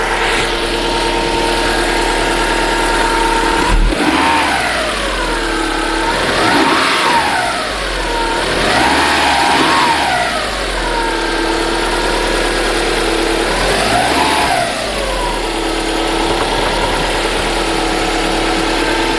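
Subaru Forester engine idling after a timing belt and roller replacement, a steady close drone with a recurring squeak from the timing belt area and a few rises in revs.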